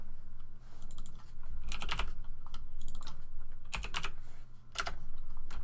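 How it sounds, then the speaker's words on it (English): Keys clatter on a computer keyboard as coordinates are typed in, in short irregular bursts of quick taps with pauses between, close and clear. "Then you gotta type in your coordinates."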